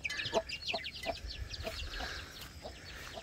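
Free-range chickens clucking in a steady, rhythmic series of soft nearby clucks and chirpy calls, several birds overlapping at a modest volume.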